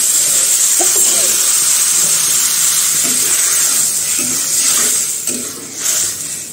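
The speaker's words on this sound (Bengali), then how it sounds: "জল দিয়ে দিব" Water poured into meat curry cooking in a pan, with a steady hiss of sizzling and steaming and bursts of bubbling, close and fairly loud throughout.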